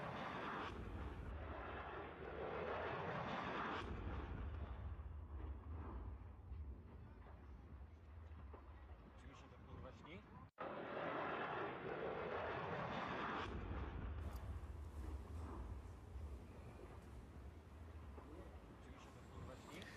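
A Polish Air Force F-16 fighter jet flies during an air show rehearsal, making a loud, sustained roar that drops out briefly midway and then surges back. Voices are faintly mixed in.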